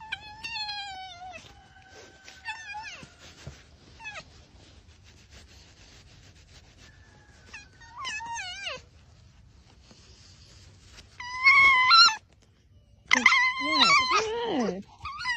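A fox being petted lets out a series of high, wavering whines and squeaky chirps in short bursts, close and fairly faint, with quiet rubbing between calls and a louder cluster of cries near the end.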